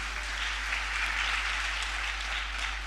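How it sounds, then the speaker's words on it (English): Attendees at a financial seminar clap for themselves, a short, even burst of applause at moderate volume over a low steady hum. "So give yourselves a clap"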